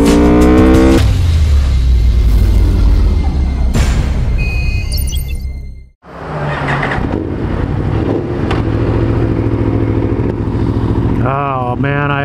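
Aprilia RSV4 sport bike with its stock exhaust, heard close while riding. The engine roars loudly and revs through the gears, drops off sharply mid-way, then pulls hard again.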